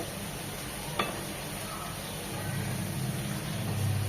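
Shredded cabbage is stirred and fried in a pan for a cabbage bhaji, making a soft, continuous close sizzle with a light scrape of the spatula and a faint low rumble.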